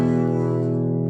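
Electric guitar chord strummed with one string ringing open, a single sustained harmonic chord that rings out evenly and close for about a second, with no voices.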